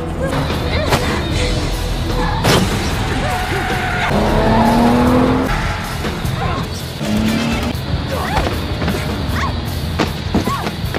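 Cars roar and race past in a movie car chase with loud tire squeals and skids, punctuated by sharp impact thuds, a voice occasionally audible under the commotion.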